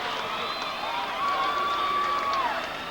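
A large crowd at the 1992 Chicago Bulls championship rally roars and cheers steadily for the whole stretch, broad and distant, with a thin whistle rising above it midway.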